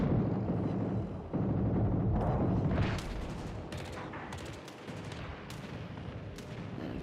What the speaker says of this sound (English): And of course the continuous secondary barrage now